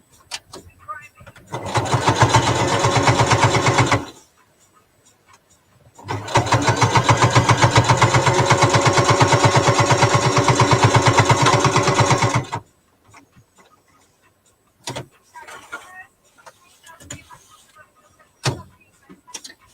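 A sewing machine top stitching a fabric hot bowl holder, two long loud runs of rapid mechanical whirring separated by a pause, followed by scattered clicks and handling noises.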